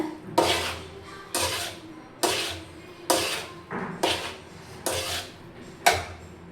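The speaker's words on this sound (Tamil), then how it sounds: "இப்போது நல்லா எல்லா சைடும் இந்த மசாலா படுற மாதிரி மிக்ஸ் பண்ணி வைக்கலாங்க" A spoon scrapes and clanks against a pot while instant biryani rice is turned through masala, seven or so distinct metallic strokes at a loose, even rhythm, close and clear with no voices.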